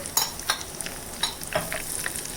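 Hing (asafoetida) and curry leaves crackle in hot oil for a sambar tempering, with sharp sizzling bursts and light stirring scrapes in a short, close, busy spell and no talking.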